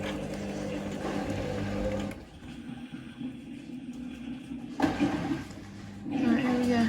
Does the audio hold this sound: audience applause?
no